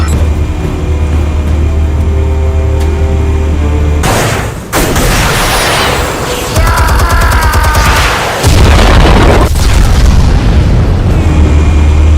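Explosives detonate in Batman: The Telltale Series, a loud booming blast with crackling debris and rumbling aftershocks over a deep, continuous low game score, followed by further heavy impacts.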